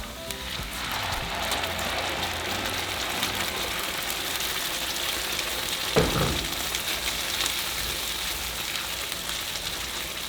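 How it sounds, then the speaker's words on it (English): Steady, dense sizzling of onion frying in hot oil, constant and close, with a brief clatter partway through. "now we're going to fry our onion for 3 minutes"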